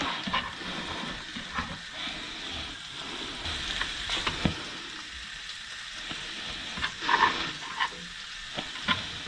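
Bacon frying in an evenly greased pan over good heat, a steady close crackle and sizzle with scattered sharper pops throughout.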